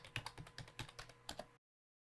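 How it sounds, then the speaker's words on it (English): Rapid keystrokes on a computer keyboard while a password is entered, a quick uneven run of close, light clicks lasting about a second and a half before cutting to silence. "So I type the password and then hit Enter key"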